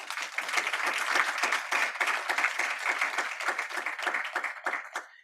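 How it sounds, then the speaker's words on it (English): A seated audience at a professorial inaugural lecture gives a round of applause: many hands clapping briskly and steadily for several seconds, then tapering off at the end. "If you can give her a big applause again, please."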